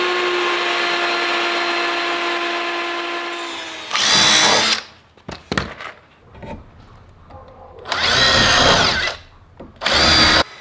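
A power drill drives screws and bolts into the corners of a heavy rainwater-collection build on a farm, in three loud whirring bursts separated by softer handling clatter.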